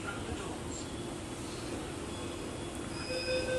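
Riding inside a Delhi metro train, with a steady close rumble of wheels and carriage, faint high squeals and tonal whines from the rails, continuous throughout.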